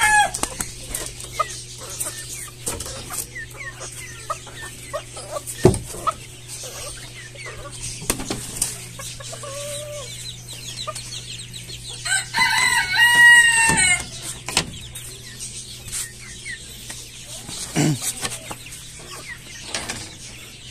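Silkie chickens cluck in a backyard coop, with scattered clucks and calls, one louder burst of squawking midway, and a steady electrical hum underneath.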